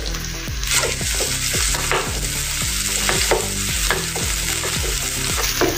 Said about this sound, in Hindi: अभी इसमें हम अदरक लहसुन का पेस्ट डालेंगे।